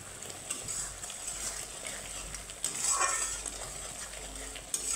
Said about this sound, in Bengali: আমার মশলাটা কিন্তু ভালো করে কষিয়ে নিতে হবে।